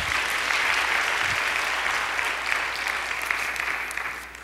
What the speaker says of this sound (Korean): 다음 박수로 한번.